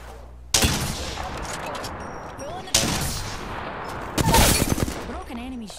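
Sniper rifle shots in a first-person shooter game ring out three times at irregular intervals, each a loud sharp crack with a lingering tail, over a steady background of game sound and a voice talking.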